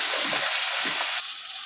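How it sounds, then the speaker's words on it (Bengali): Shrimp sizzle loudly in hot oil for cooking with taro greens, a dense, close hiss that holds steady and then drops slightly in level near the end, heard alone without speech. "তেল গরম হয়ে গেছে, এবার চিংড়ি মাছটা ভেজে নেব।"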